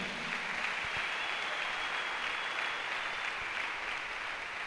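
Congregation applauding during a church service, a steady wash of clapping that holds even for nearly five seconds, fairly soft and unbroken.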